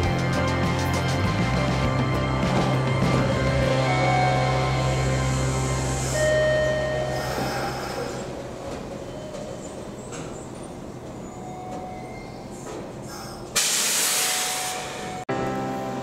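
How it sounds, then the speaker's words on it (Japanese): A Kintetsu train on the Ikoma Line rolls in at night with low rumbling, squealing and hissing brakes, slowing to a stop at a station platform, then a sharp burst of air release near the end. "21時56分5番乗り場に電車が入ってきました"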